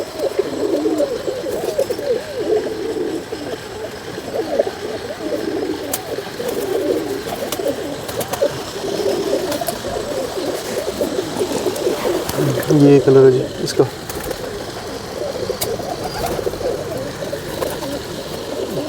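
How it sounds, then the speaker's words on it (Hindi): Old pigeons on a rooftop coo softly in low, throaty rolls under steady nearby conversation in Hindi, with a brief louder flurry partway through. "ये बहुत पुराना और सियाना कबूतर लेके आए हैं"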